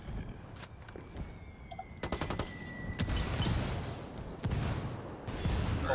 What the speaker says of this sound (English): Artillery's coming.